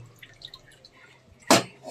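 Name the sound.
draining water from boiled sago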